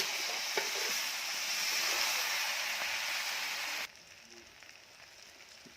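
Local chicken meat sizzles and fries in a pan, a steady crackling hiss with small pops, then abruptly drops to a quieter, softer sizzle partway through.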